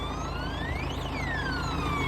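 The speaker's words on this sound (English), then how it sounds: "Oh, do you like that alarm?" A farm tractor's electronic alarm during a snowstorm sounds as a wavering tone that sweeps up and back down, steady and moderately loud over a constant low engine hum.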